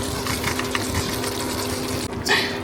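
Pasta poured into a pan of cooked steak and peppers for a spicy noodle dish makes a steady, close rushing and sizzling wash that runs unbroken and swells briefly near the end, with no talking.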